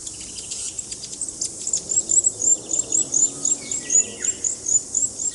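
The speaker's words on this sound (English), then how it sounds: "Look at the bird." Birds sing in a forest near Christchurch, New Zealand, a bright repeated chirping phrase rising and falling in a quick rhythm, with insect-like buzzing and soft ambient hush beneath.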